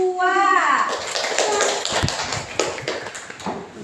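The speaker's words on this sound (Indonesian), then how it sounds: "Tepuk tangan untuk kelompok 2." Clapping hands fill an elementary school classroom in a burst of scattered claps that follows a voice and continues fairly loudly with other voices mixed in.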